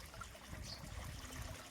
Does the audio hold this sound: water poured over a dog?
yes